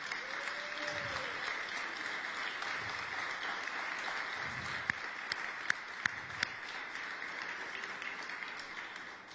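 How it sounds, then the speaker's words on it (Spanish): Church congregation applauding Jesus, a steady wash of clapping from a crowd that holds evenly throughout, with a few sharper individual claps standing out near the end and faint voices underneath. "¿Por qué no le das un aplauso a Jesús?"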